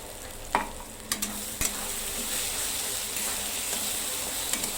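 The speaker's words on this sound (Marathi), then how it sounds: "आता याला पण 1-2-3 मिनिटं परतून घेते।" Chili, ginger, garlic and coriander paste sautés in a pan for egg bhurji, a steady low sizzle with a few sharp clinks of a spoon against the pan, close and moderately loud, no talk.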